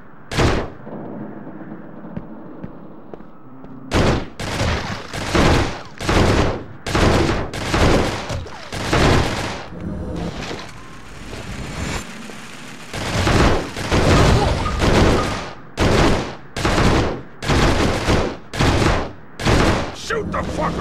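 Bursts of gunfire from Urban Chaos on PS2 come in loud, closely spaced volleys, some rapid like automatic fire, each cracking sharply above a quieter background, with shouted voices mixed in.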